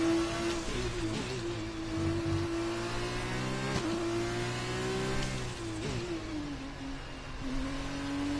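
An F1 race car in a racing video game revs hard, its high engine note climbing and dropping sharply with each gear change and lift off the throttle. The sound is steady and close, with no talking.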